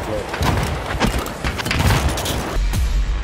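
Rapid gunfire and booming impacts from a 16 vs 16 Battlefield 4 match crack in quick bursts, loud and close, with players talking over the shooting.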